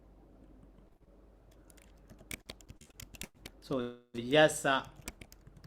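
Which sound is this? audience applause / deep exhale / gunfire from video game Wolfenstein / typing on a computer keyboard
typing on a computer keyboard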